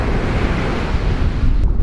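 Strong wind buffets the microphone over steady crashing surf on an empty, freezing winter beach, a loud continuous roar with no voices.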